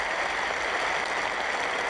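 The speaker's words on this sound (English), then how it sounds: "This crowd rise on their feet to applaud." A cricket crowd at Trent Bridge during an England v Australia Test match stands to applaud, a dense, steady roar of clapping that stays loud and even throughout with no voices standing out.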